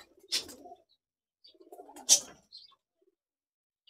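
Young Pakistani pigeon making two short, faint cooing bursts about two seconds apart in a quiet indoor space, with a few soft rustles around them.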